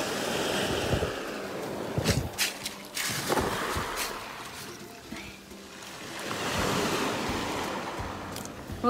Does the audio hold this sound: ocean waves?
yes